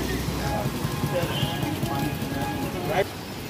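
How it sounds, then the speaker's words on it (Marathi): Steady rain pours down in a dense, even hiss, with a faint voice murmuring somewhere underneath. "काल रात्री हा पाऊस सुरू झाल्याने नागरिकांची तारांबळ उडाली नाही।"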